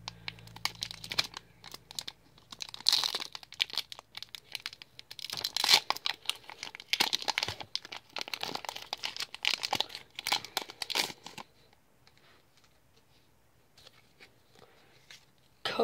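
A Pokémon card booster pack, wrapped tightly, is torn open and crinkled, with close, busy foil rustling and ripping for about eleven seconds before settling into near quiet.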